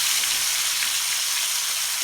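Fish frying on a hot tava griddle gives a steady, fine crackling sizzle with a hissy wash, continuous and close, with no voices over it.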